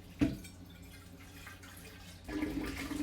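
Water running and draining while a coffee pot is rinsed out, a faint splash near the start, then soft trickling that swells into a fuller pour at the end.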